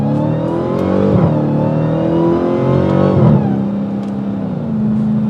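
A Dodge Challenger SRT Hellcat Redeye Widebody accelerates hard at full power, its engine roaring up through rising revs with brief dips at gear shifts, loud and close from inside the cabin.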